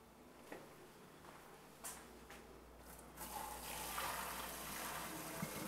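Boiled elbow macaroni is drained, with water pouring and splashing faintly into a sink, growing steadier and a bit louder toward the end.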